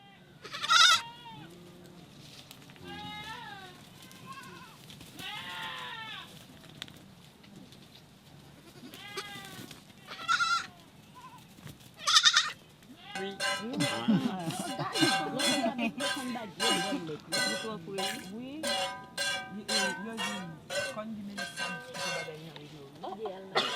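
Goats on a farm bleating repeatedly near and far, a lively chorus that grows busier and louder in the second half, over steady background noise and quiet talk.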